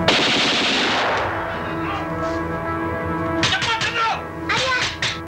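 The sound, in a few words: gunfire sound effect in historical reenactment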